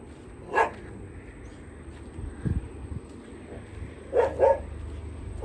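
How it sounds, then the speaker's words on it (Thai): A dog barks near a busy roadside, sounding somewhat distant. A single bark comes early, then a quick double bark several seconds later, over a low hum of traffic and ambient noise. "หมาก็จะมาเห่าเหมือนเดิมอีกแล้ว"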